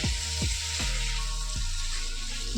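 Tomato and sugar frying in a pan for a potato and green banana curry, a steady close sizzle with a few soft clinks of a utensil against the pan.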